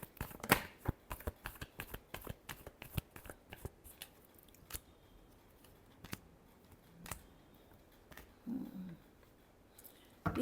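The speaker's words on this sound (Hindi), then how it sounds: "Last shuffle." Tarot cards being shuffled by hand, a series of quick papery riffles and snaps in uneven bursts, close and fairly quiet, with no talk.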